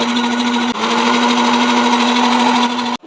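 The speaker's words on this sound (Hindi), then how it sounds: "और अच्छे से इसको ब्लेंड कर लेंगे।" Electric blender whirring steadily as it blends mint lemonade with water, a loud, close motor whine holding one pitch with a slight dip and cutting off at the end, no talk.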